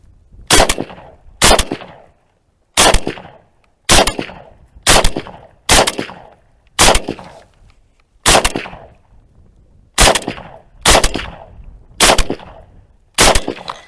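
Loud single shots from a Ukrainian "Vulkan" replica automatic rifle ring out one at a time at irregular intervals, about a dozen sharp cracks with brief echoing tails.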